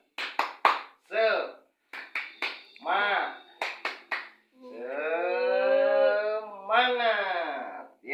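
A group does the rhythmic 'tepuk semangat' spirit clap in sharp bursts of clapping, broken by chanted voices and a long sung-out word, close and lively.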